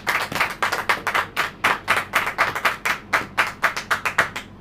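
An audience claps in a loose, quick rhythm, with individual hand claps distinct and close rather than blended into broad applause. The burst runs for several seconds with no talk over it.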